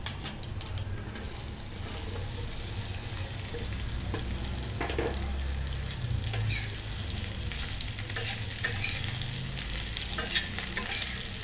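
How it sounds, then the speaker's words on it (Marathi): Okra and green chilies fry in hot oil and are stirred steadily, giving a continuous close sizzle with scraping and stirring noises throughout and no talk. "अशी सारखी भेंडीची भाजी अशी छान परतवत राहायची"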